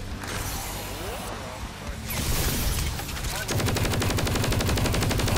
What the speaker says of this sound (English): The ray gun is doing good damage.